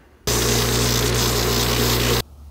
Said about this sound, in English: Grind the ends smooth.